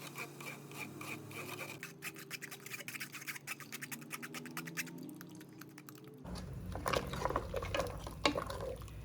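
Ground masala is strained through a mesh sieve while making a sheep-leg curry, giving faint, close, rhythmic scraping and wet rubbing that grows busier toward the end, with no voices.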